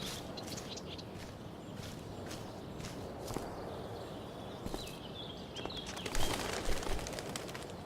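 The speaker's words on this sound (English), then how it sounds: "One small flight for this bird" A bird flaps off with a few brisk wingbeats in the video game Life is Strange: Before the Storm, rising out of a steady, busy outdoor ambience near the end.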